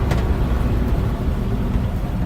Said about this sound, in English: I'm going to jab on the brakes here and just see if it puts me through the windshield.